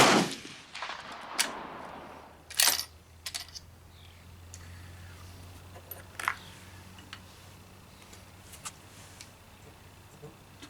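Steyr match rifle fired at a shooting range: a few sharp, separated cracks, the first loud and close, followed by fainter reports and clicks over a low steady background hum.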